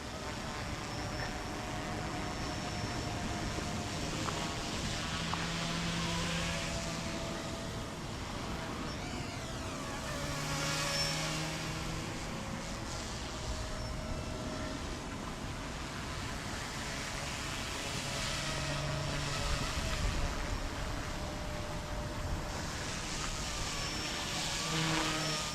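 An Eachine E120S RC helicopter flies outdoors in the wind, giving a steady, fairly faint whirring hum that rises and falls slightly over a constant background rush.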